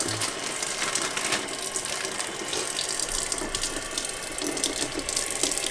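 Cold water runs steadily from a sink faucet in a continuous close splashing stream, with no voices over it.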